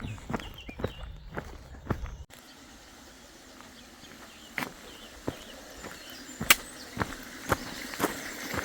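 Footsteps tread along a path through pasture farmland on a walking pilgrimage, forming a steady, close rhythm of crunching steps that is sharper at first and softer later, with no talking.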